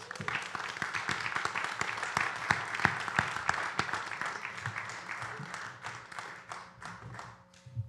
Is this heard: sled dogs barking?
no